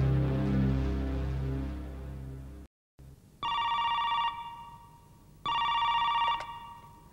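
Telephone bell ringing in two separate bursts with a pause between them, fairly clear after a stretch of music that cuts off.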